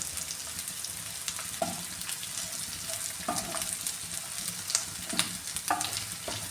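Fish pieces frying in sesame oil for Kerala-style fish pickle, a loud, dense, continuous crackling sizzle with a few spatula scrapes and clinks over it.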